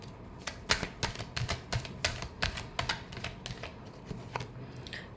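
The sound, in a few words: tarot cards being shuffled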